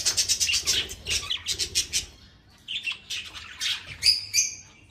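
Budgies in a breeding setup chirp and squawk in quick bursts, bright overlapping calls close by, with a short lull before more sharp chirps and squawks.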